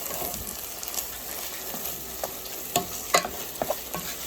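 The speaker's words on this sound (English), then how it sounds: "what I'm going to do is go in with that can of Rotel." Canned Rotel diced tomatoes and green chilies sizzling in a pan with ground meat for goulash, a steady close hiss broken by spatula scrapes and small pops as it is stirred.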